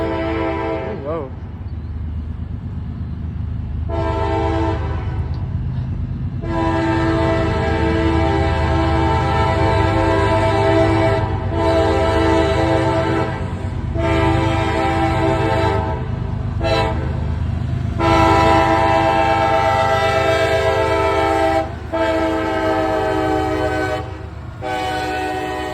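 A train with a DPU passes through the Lincoln Street crossing in Tullahoma, Tennessee, whose crossing bell is dead, blasting its horn in long loud repeated blows over the heavy rumble of the passing cars, with people talking nearby.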